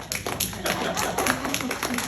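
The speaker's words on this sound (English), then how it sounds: "Give applause after Andy" Audience applause for a pastor's presentation at an interfaith gathering, a steady wash of clapping hands lasting about two seconds at moderate level, with some talk mixed in.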